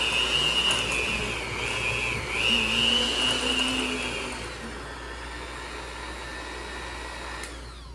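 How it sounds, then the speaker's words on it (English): Electric mixer beating a thick chocolate ooey gooey butter cake batter of melted butter and egg, producing a continuous motor whine with a high tonal hum that wavers in pitch, then grows slightly quieter and steadier, with no talking. "now let's let the mixer do the work"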